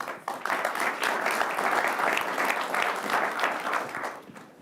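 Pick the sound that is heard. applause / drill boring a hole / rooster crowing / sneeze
applause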